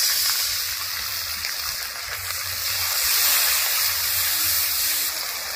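Water poured into ground coriander-cumin paste with chilli and turmeric powder in a cooking pan, giving a steady close sizzle and hiss with a soft watery bubbling, fairly even throughout with no talking.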